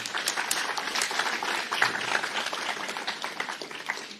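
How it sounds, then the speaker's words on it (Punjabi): An audience applauds to welcome trainee doctors at a formal gathering, sustained crowd clapping heard at a moderate distance, fairly even and unbroken from start to finish. "ਇੱਕ ਵਾਰੀ ਜ਼ੋਰਦਾਰ ਤਾਲੀਆਂ ਨਾਲ ਸਵਾਗਤ ਕਰੋ ਜੀ"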